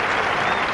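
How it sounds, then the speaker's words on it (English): Tennis crowd applauding at a 1996 Canadian tournament match between Seles and Sabatini, a brief dense burst of many hands clapping, loud and continuous with no speech. "And the applause from the champ."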